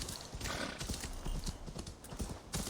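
A horse in the video game Assassin's Creed Valhalla trots with steady rhythmic hoof clip-clops and a short whinny, close and moderately loud over game ambience, with no speech.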